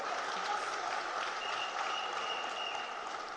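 An audience claps at a lecture on Ghana's economy, a sustained, even roar of many hands with a faint tonal hum running beneath it.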